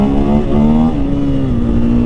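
A motorcycle fitted with an Acerbis X soft seat revs hard in second gear while pulling a wheelie, its engine a loud, steady, close drone with a slight rise in pitch, no talk.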